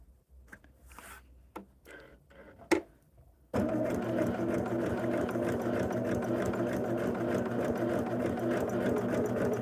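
After a few soft handling clicks and rustles, a sewing machine starts stitching quilt pieces, running at a steady fast whir, close and continuous to the end.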